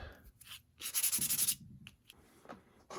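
600 grit automotive sandpaper is rubbed by hand over a small metal part for a model locomotive build, giving close, brisk rasping strokes in a short burst followed by a few lighter scrapes.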